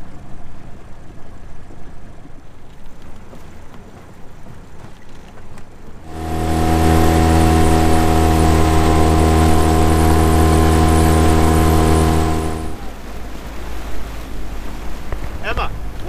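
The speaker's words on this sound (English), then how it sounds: "today we're gonna take the dinghy" A dinghy outboard motor starts up loud and close on open water, droning steadily for about six seconds with a strong harmonic hum over wind and waves, then cuts back to wind noise.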